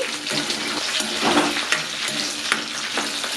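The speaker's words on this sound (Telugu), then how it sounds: "పచ్చిమిరపకాయలు ఎండుమిరపకాయలు ఆయిల్లో బాగా ఫ్రై అయిన తర్వాత" Green and dry red chillies fry in hot oil for a mint chutney, giving a dense, continuous crackling sizzle with faint stirring scrapes throughout.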